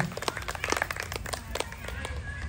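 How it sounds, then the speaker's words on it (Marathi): An audience at a police family event claps in a quick, scattered burst, with voices mixed in under the applause. "एकदा जोरात टाळ्या झाल्या पाहिजे सगळ्यांच्या."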